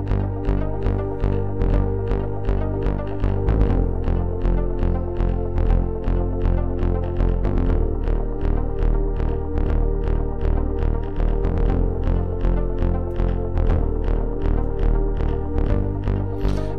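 A synth note latched in the Scaler 2 app on an iPad sustains as a loud, steady tone that pulses in a rapid, even rhythm for the whole stretch, with no voices.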